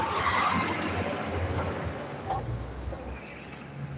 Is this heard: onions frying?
no